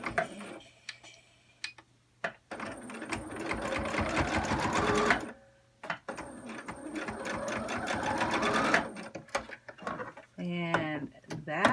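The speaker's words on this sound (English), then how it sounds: "I grab this and I go in and I start sewing and I back up" A sewing machine stitching a fabric surgical mask with darts runs in two long, fast bursts of rapid ticking, with short stops and a quick reverse between them; a voice talks at low level in the gaps.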